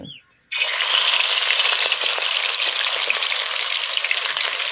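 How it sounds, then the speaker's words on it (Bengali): Amla fish slid into hot oil in a wok bursts into a loud, dense, steady frying sizzle after a brief quiet moment, continuing close and unbroken with no talking. "এবারে আমি একে একে সব মাছগুলো ভেজে নেব"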